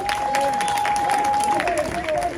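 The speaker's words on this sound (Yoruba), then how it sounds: "ẹ ṣe gan ni o ẹ bá mi pàtẹ́wọ́ fún wọn" Audience applause for performers at a Yoruba gathering honoring the Ooni, dense steady clapping running throughout under a sustained tonal voice or instrument line.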